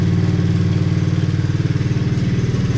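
A Hawk 110cc ATV engine sits running at a fast idle, loud and close, with a steady pulsing putter that wavers slightly as it hunts.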